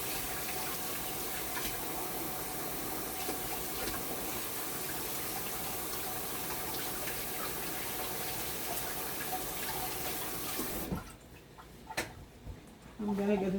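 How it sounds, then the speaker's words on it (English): Kitchen tap water runs steadily while hands are washed, a constant hiss and splatter that stops abruptly near the end, leaving a few faint clinks and handling noises. "Just let it, just wash my hands."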